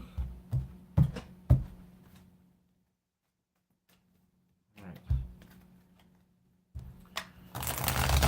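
Tarot cards are handled and shuffled in short bursts: soft thumps and papery riffles, a long quiet pause, more taps, then a louder rush of shuffling at the end, close and intimate.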